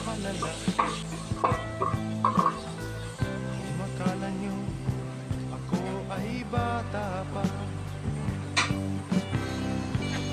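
Chicken gizzards and garlic stir-fry in a hot pan, sizzling steadily while a utensil scrapes and clinks against the pan in repeated strokes, close and clear.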